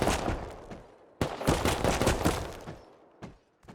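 Gunfire in the video game Rust: two sustained bursts of rapid shots, loud and close, separated by a brief gap, then a few scattered single shots as it trails off, with no voices.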